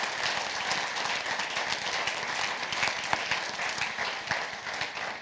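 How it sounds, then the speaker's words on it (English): Audience at a school board meeting applauding the schools, a steady, moderately loud patter of many hands clapping throughout. "So one more round of applause for our schools."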